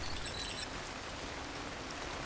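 Steady rain falling outdoors on a rocky mountain climb, a constant broadband hiss with no clear individual drops, fairly close and uniform throughout.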